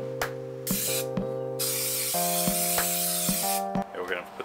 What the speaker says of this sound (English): And spray the adhesive and put it in there.